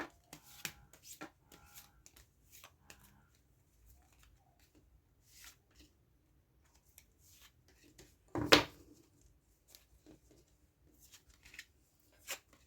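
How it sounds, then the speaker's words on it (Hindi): Tarot cards are shuffled by hand in quiet, soft bursts of riffling and patting, with one louder slap of the deck partway through; close and faint, with no talking. "once again shuffle the cards and pick selectively from the deck."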